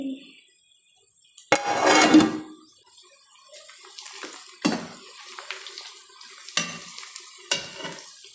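Koshari cooks in a pan while a spoon stirs it, giving a soft bed of sizzle broken by several sharp scraping strokes and clinks spaced a second or two apart, close by, with no talk.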